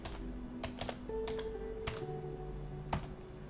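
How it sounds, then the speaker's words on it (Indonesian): Quiet, close keystrokes on a computer keyboard tap out a web address in an uneven burst of clicks with brief gaps between letters. "di sini pada URL ini kita ketik libgen.is"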